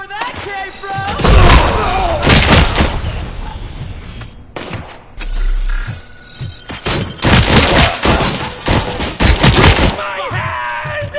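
Heavy, booming gunfire from the Robocop video game, with loud bursts of shots and impacts close up amid chaotic action, while game voices shout over the din.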